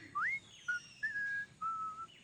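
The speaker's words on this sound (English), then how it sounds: "Man, that's good whistling." A person whistles a few clear notes: a rising slide, a short blip, then two longer held tones, close and fairly quiet.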